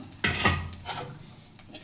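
Tea leaves stirred and dry-frying in a pan, giving a few short scraping, rattling bursts close by with soft sizzle between strokes, no talking.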